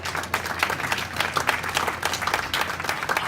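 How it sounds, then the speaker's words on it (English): An audience at an earthquake safety fair workshop applauds a panel on tall building safety, a dense, fairly loud round of many hands clapping that holds steady throughout. "let's give them a round of applause"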